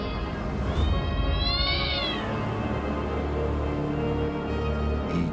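Kittens meowing several times in high, rising cries, close and loud over a busy background with music playing throughout.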